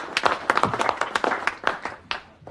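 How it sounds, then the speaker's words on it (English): A small audience at an angling club Christmas party gives a short, uneven round of applause for an accordion player, with individual claps standing out clearly and close. "I'd like to hear a nice big warm round of applause, please, for Norman Penfold and his squeeze box."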